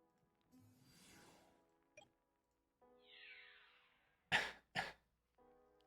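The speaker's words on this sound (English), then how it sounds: "Little tiny baby cough." A small, soft cough rings out as two sharp, close bursts in quick succession, set among quiet scattered sounds and near-silence.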